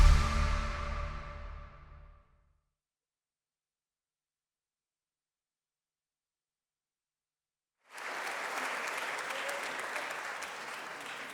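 Audience applause for award winners at a city public health summit, loud and dense at first, then fading out within about two seconds; after a long silence, a fresh round of steady clapping rises and holds to the end.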